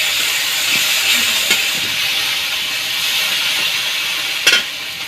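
Green chili paste hits a hot pan in village-style cooking, giving a steady loud hissing sizzle with a few stirring scrapes and clinks throughout.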